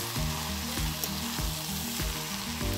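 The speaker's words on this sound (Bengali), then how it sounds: "এইভাবে খিচুড়ির চাল যত ভাজা ভাজা করা যাবে ততই টেস্ট আসবে" Washed rice and lentils for khichuri fry in a pan with bay leaves, whole garam masala and cardamom, sizzling steadily and close while being stirred in a regular scraping rhythm.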